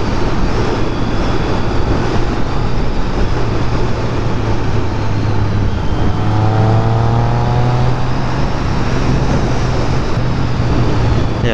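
A Triumph Street Triple R motorcycle rides in 4th gear up a cold, icy mountain road toward Wrightwood, loud continuous engine drone and wind roar close to the microphone, with a rising whine of revs midway, no talking.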